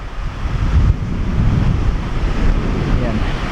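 Strong wind buffets the microphone at the hilltop Malico Viewpoint in Nueva Vizcaya, a continuous, gusty low rumble that swells and eases throughout.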